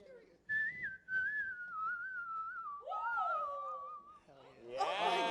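A person whistles a wavering, sustained melody up close, with a second voice briefly joining, then laughter or excited talk at the end.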